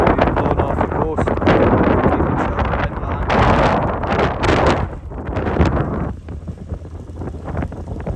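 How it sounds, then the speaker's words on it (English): Strong storm gusts of wet, windy weather in Scotland batter the microphone in loud, rumbling waves, easing slightly toward the end; speech seems partly buried under the buffeting. "it is pretty windy and it's wet"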